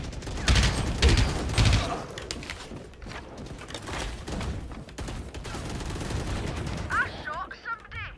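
Bursts of gunfire from the Valorant shooter game, loud rapid shots clustered early then scattered volleys, with game effects and some talk mixed in.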